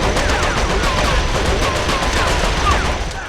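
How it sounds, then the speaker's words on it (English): Rapid third-person shooter gunfire in The Outfit on Xbox 360, a dense, loud stream of rattling shots and impacts filling the whole stretch without pause. "Shooting at an enemy 30 times before he actually takes a hit is a bit of a pain."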